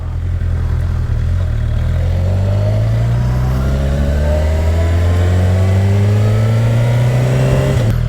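A motorcycle rides along roads in flooded Netherlands countryside and accelerates hard, its engine note climbing steadily in pitch over several seconds. The sound is loud and close, and no one speaks.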